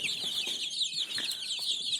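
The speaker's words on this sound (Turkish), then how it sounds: "Bugün sizlere civcivlerimi göstermek istedim." A group of Sussex chicks cheeping nonstop, high thin peeps overlapping in a busy close chorus, with a faint rustle and cluck underneath.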